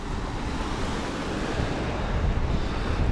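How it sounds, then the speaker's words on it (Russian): Sea waves surging and breaking on a beach at Adler in strong cold wind, a loud continuous wash of surf building toward the end, with wind buffeting the microphone and no voices. "Ой, волна сейчас меня бабахнет, походу."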